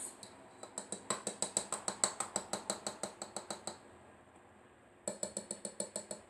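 A spoon stirs a pudding mixture with biscuits, making rapid rhythmic clinking scrapes in a steady series against the bowl, a brief pause, then another quick run of taps, close and fairly quiet.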